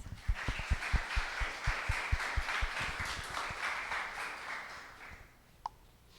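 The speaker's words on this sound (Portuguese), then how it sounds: "vamos receber o nosso palestrante Paulo com uma salva de palmas" An audience in a school parliament hall gives a round of applause to welcome a speaker, rhythmic clapping that starts with distinct claps and blends into steady applause before fading out, moderately distant.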